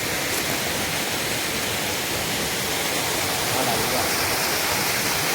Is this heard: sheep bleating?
no